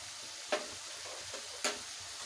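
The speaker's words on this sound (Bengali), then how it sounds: "ভালোভাবে মশলাটাকে কষে নেব" Masala paste frying in a pan while being stirred, a steady soft sizzle broken by two sharp scraping strokes of the spoon, with no voices.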